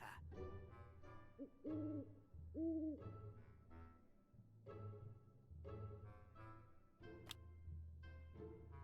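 An owl in the video game Keepsake gives several distinct hoots, each a clear, moderately loud call among soft in-game sounds, with no talking.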